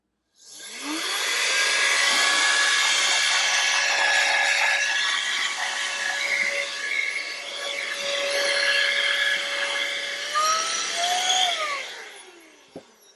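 A Kairiyard rechargeable compressed air duster with a crevice nozzle blows continuously, a loud, whiny motor roar with shifting pitch that rises after switch-on and winds down as it is turned off.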